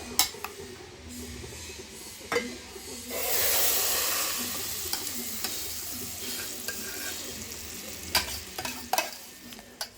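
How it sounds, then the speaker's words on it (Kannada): Steady sizzling of butter in a pan over medium flame with occasional sharp scrapes of a spoon stirring, a louder hiss swelling briefly midway. "ಬೆಣ್ಣೆ ಹಾಕಿದ್ಮೇಲೆ ಒಂದು ಸ್ಪೂನ್ ಸಹಾಯದಿಂದ ಚೆನ್ನಾಗಿ ಮೀಡಿಯಮ್ ಫ್ಲೇಮಲ್ಲಿ ಇಟ್ಕೊಂಡು ತಿರುಗಿಸ್ಕೊತಾನೆ ಇರಬೇಕು"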